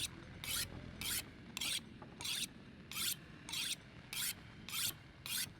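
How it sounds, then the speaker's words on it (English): A blade, such as a hatchet, being sharpened on a whetstone in the survival game The Long Dark: about eleven rhythmic rasping strokes, evenly spaced roughly half a second apart, clear and close over a low rumbling background. "Yeah, we'll do a fair bit of sharpening here."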